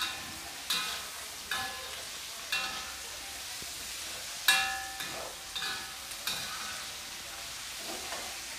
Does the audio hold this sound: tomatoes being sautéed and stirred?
yes